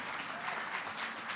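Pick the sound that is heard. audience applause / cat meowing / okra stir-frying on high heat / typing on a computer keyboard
audience applause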